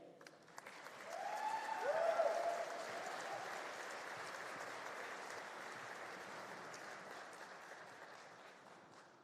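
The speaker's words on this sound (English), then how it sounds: "One more round of applause for our Poet Laureate." Steady applause from a convocation audience for the college's poet laureate after her reading, swelling early and then holding as a broad, even wash of clapping that slowly thins.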